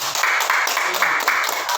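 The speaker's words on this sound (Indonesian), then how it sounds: "Kita tepuk tangan dulu semua." A class of students clapping their hands together at the close of a school lesson, a fairly close, steady rhythmic patter of claps in repeated bursts with almost no talk.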